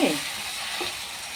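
Vegetables fry over a low gas flame with a soft, even sizzle, heard briefly and close.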